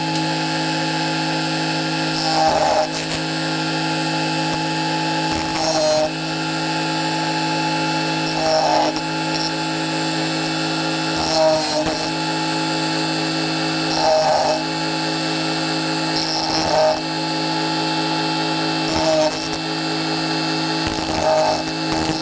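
A Tigers Teeth sharpener grinding worn oscillating multi-tool blades: a loud, steady, high-pitched mechanical whine broken by regular gritty rasping bursts every few seconds, close and continuous with no talking.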